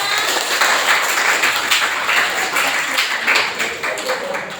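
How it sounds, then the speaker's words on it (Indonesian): Classroom applause for a student group in a teaching practice lesson, a steady dense patter of many hands clapping at moderate volume throughout, with faint murmuring beneath. "Tepuk tangan untuk kelompok 5."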